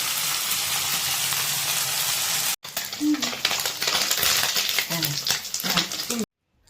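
Small chuno fish fry in a pan of hot oil, giving a steady loud sizzle that breaks off briefly, resumes with stirring and turning noises, then cuts out near the end.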